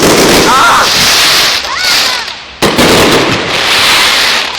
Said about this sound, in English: these fireworks are really good